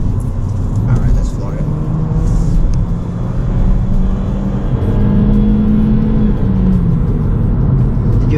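A 2022 Honda Civic Sport accelerates with a steady engine drone heard from inside the cabin, pitch rising in long sweeps between shifts, under road noise and people talking.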